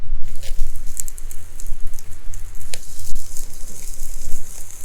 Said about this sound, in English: We're going to give this a sear for about 60 seconds per side.